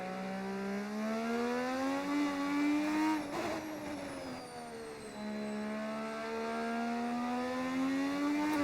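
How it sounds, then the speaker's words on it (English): A race car engine in the F1 25 video game revs hard, its harmonic whine climbing and dipping through gear changes with a brief rough patch midway. It sounds loud and close, with no talk. "Your car sounds like it's pooping."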